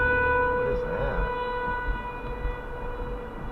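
A town's 12 noon civil defense siren wails in steady sustained tones, moderately loud with a faint low rumble of traffic underneath.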